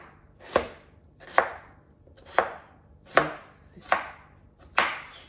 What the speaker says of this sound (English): I'm gonna go ahead on and continue to chop